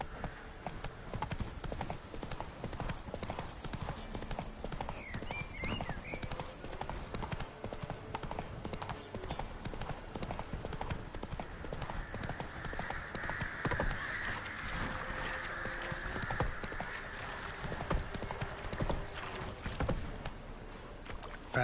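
Roach, a horse in The Witcher 3, gallops with a steady, rapid clip-clop of hooves over continuous ambient game sound, with a faint brief whinny-like call partway through.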